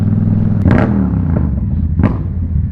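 A Yamaha MT-07 motorcycle engine rumbles nearby with a couple of sharp throttle blips and popping bursts from the aftermarket exhaust.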